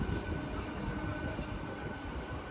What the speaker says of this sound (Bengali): চুপচাপ দাঁড়িয়ে থাকুন ট্রেনটা সোজা চলে যাবে তারপরে যাবেন